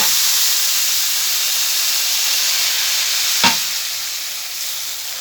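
Water poured into a pot of toasted vermicelli: a loud, steady frying hiss, then a sudden sharp burst as the water hits the hot pot, after which the sizzling settles slightly lower.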